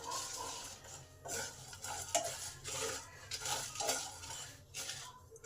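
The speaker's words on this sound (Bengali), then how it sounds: "এগুলোকে ধিমে আঁচে ভালো করে নেড়ে ভেজে নিতে হবে" Coriander and cumin seeds dry-roasting in a pan over low heat, a utensil scraping and stirring in repeated strokes with faint sizzling and crackle, close and unaccompanied by talk.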